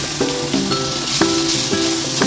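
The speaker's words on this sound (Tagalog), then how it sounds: "stir fry lang natin ng mabilisan kasi madali lang maluto ang beef" Minced beef stir-fried quickly in a pan with garlic, a steady sizzle broken by spatula scrapes and clinks against the metal roughly every half second.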